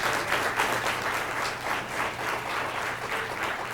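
Steady audience clapping at a school board of education meeting, a room full of hands applauding continuously at moderate level for the whole stretch.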